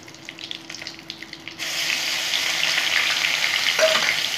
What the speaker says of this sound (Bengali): পেঁয়াজ বাটা দিয়ে আমি ভালো করে কষিয়ে নেব